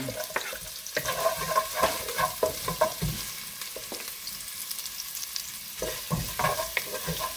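Garlic and ginger sautéing in a pan while cooking mudfish in ginger broth: a continuous sizzle with repeated scraping stirs, close and fairly loud, with no talk.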